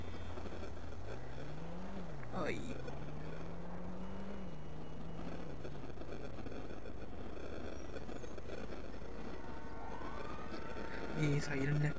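A wailing emergency siren in GTA V, heard among game noise and someone talking, sweeping up and down from near the start and fading partway through, with a rising tone returning near the end.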